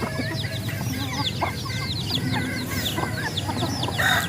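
A flock of backyard chickens cluck and chatter continuously nearby, with busy overlapping calls and an occasional crow-like call, no talking.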